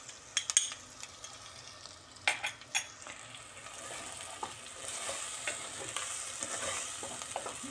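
Tomato paste and onion sizzle in a pan while being stirred for a bean stew, a steady frying hiss broken by a few sharp utensil scrapes and clinks early on.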